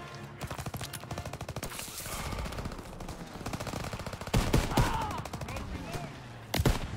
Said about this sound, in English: or is there shooting at me?